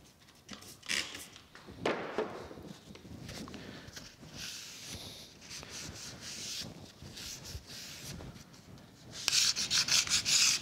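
Hand scraping of metal dovetails on a metal planer's clapper box cross slide: irregular rasping scrape strokes of steel on cast iron, close and moderately loud, with a quicker, sharper burst of strokes near the end.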